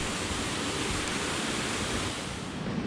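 A mountain river flows along a wooded trail, steady broadband rushing water filling the scene evenly, moderately quiet and continuous with no voices.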